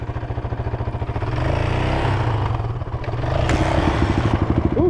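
Stock Honda CRF250R dirt bike engine firing up and settling into a loud, close, rapidly pulsing idle with a slight rev, clattering steadily throughout without speech.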